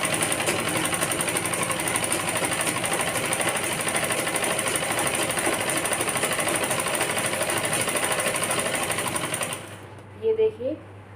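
A sewing machine runs steadily, stitching a girl's frock with a dense, even whir that continues for about ten seconds before stopping, followed by a few faint clicks.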